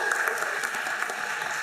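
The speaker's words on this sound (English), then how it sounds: "Or we can applaud now." An audience at a health science award celebration applauds the recipients, a brief, even burst of many people clapping at moderate volume.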